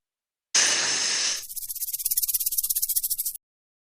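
Snakes hissing in a dramatized scene: a loud, sharp breathy hiss bursts in, then gives way to a rapid rattling series of pulsed hisses that continue steadily for about two seconds before stopping abruptly, with no voices.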